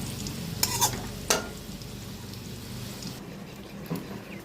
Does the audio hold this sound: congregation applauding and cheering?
no